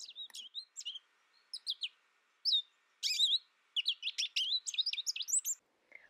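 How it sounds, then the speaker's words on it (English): American goldfinch giving its potato-chip flight calls outdoors near farmland: a series of bright, clear chirps and short twittering phrases at moderate distance, coming in quick bursts separated by brief pauses. "you hear the classic potato chip call of the American goldfinch"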